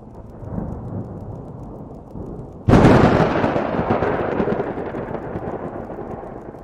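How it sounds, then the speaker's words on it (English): A sudden loud thunderclap bursts over steady rain in the horror game Wick, then rumbles and slowly fades into the continuing downpour, with no voices. "The thunder and lightning is used to good effect."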